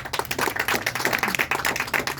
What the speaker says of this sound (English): Can we clap for the governor, please?